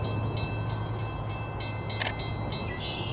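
Metra Milwaukee West commuter train 2242 arriving at a suburban station, a steady low rumble with rhythmic wheel clicks and a brief squeal, continuous and fairly close.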